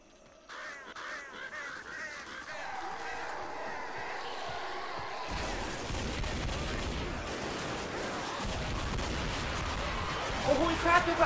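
Gunfire in Left 4 Dead, with sustained chaotic shooting and crashing action sounds building up in the second half, layered with bird-like cawing and game noise, loud and dense throughout.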